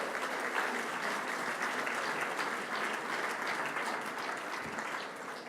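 Sustained applause from an audience at the 2018 Rolex LPGA Awards ceremony, a steady dense clatter of many hands clapping without a break, loud and even in a large room.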